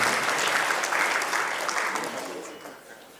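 Applause for a minister at a World Kiswahili Day ceremony, a dense wash of many hands clapping from a seated audience, steady at first and then fading gradually toward the end.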